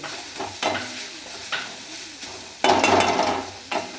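Papaya slices frying in a pan and stirred with a spatula, soft sizzling broken by several scraping, clattering stirs, one longer burst near the end, close and without talk.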